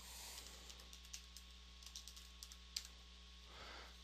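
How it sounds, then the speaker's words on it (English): Quiet typing on a computer keyboard, an irregular run of soft key clicks over a low steady hum. "you type in, start typing phrases and words and so forth"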